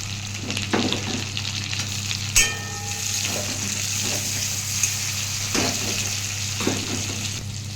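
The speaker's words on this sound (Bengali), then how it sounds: "তো দেখো পেঁয়াজগুলো লাল লাল করে ভাজা হয়ে গেছে। আমি এর মধ্যে একটা টমেটো কাটা দিয়ে দেবো।" Onions and chopped tomato fry in a pan, giving a steady, close sizzle over a low hum, with a few sharp stirring clicks and scrapes.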